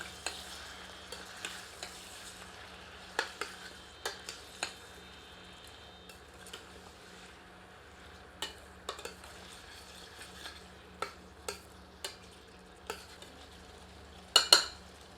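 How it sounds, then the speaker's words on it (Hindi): Quiet, close scraping and clinking of a utensil against a pressure cooker while frying spices comes at irregular intervals over a faint, low background hum. "सबको मिलाकर 1 मिनट भूनते हैं।"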